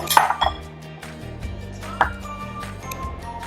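A spoon clinks against a bowl while peanut butter is mixed, a few light metallic taps and scrapes close by, with quieter clatter in between.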